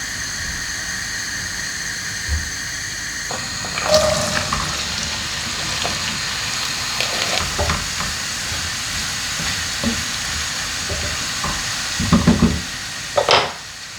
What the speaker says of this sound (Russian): будем наливать подсолнечное масло, чтобы обжарить наш нарезанный лук до золотистого цвета.